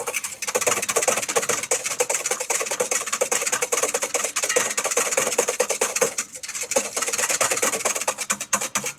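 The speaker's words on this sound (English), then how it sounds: "as I draw my whisk through it, how the line holds" A whisk is drawn rapidly and rhythmically through a thickening pine nut and lemon tart filling in a large bowl, producing dense, scraping, rubbing strokes at close range that continue almost without pause, with no speech.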